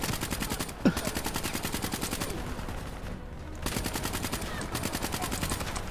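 Continuous automatic gunfire in Black Ops III, a loud rapid stream of shots broken by a couple of short pauses, with some talking underneath.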